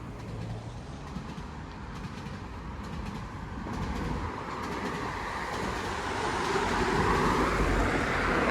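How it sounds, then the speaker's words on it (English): Two GO commuter trains rumble past seconds apart near Park Lawn Road in Etobicoke, Toronto, the roar swelling steadily as they draw nearer, mixed with distant road traffic. "We got 2 GO trains on one video, all within seconds apart."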